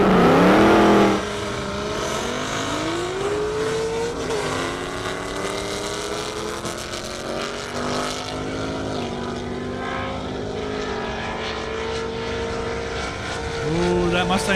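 Ford Mustang and Corvette Z06 drag racing down an airport strip, loud engines revving and climbing through gears as the cars pull away, with voices over the continuous roar.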